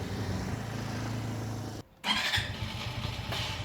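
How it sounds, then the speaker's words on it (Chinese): A Suzuki UY125 motorcycle starts up with an abnormal noise. A steady low rumble cuts out briefly, then a loud, bright burst of engine noise follows and carries on to the end. "它每次发动的时候都会有一声异响"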